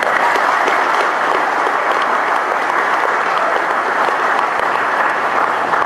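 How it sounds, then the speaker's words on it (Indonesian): A large crowd claps steadily and loudly at an Indonesian gathering, sustained dense applause at even intensity throughout with no break. "Tepuk tangan."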